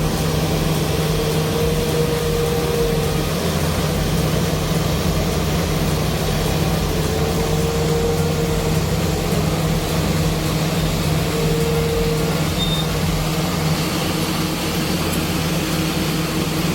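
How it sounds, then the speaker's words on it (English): A Renault K480 logging truck engine drones low and steady while pulling large timber through deep mud, a continuous heavy diesel hum with faint occasional higher tones, no speech. "It's impressive to see the Renault K480 pull large timber through very deep mud."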